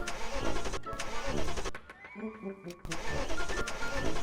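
An old car engine cranks and starts, a steady mid-pitched mechanical churn that dips briefly, then picks back up and runs loudly close by, with no talk over it.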